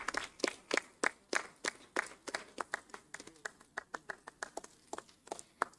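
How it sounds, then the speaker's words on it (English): Audience at an academic symposium applauding, a sparse, fairly distant run of individual handclaps that settles into a steady rhythm over several seconds, with faint voices in the background. "A round of applause."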